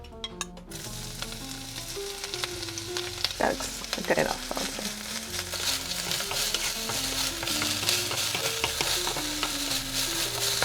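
Pre-cut onions and green onions sizzle and fry in a pan for a Korean dish, a loud steady crackle with stirring scrapes throughout, a few words spoken briefly over it.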